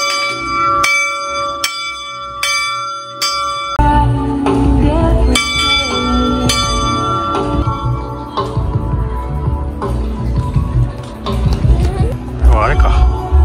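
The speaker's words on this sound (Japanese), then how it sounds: "こちら希望の鐘のようです。ちょっと鳴らしてみましょう。" A bell, the Bell of Hope at the Matsushima scenic viewpoint, is struck several times at a steady pace with clear sustained ringing tones, then fades as people talk nearby outdoors.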